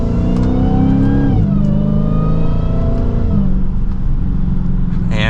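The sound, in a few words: supercharged V8 car accelerating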